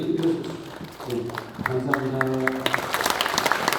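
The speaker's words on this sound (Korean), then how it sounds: "박수로 인사하겠습니다." A congregation at a Sejong City Easter union worship service applauds with scattered, brisk clapping that builds toward the end, mixed with sustained tonal sounds and some talk underneath.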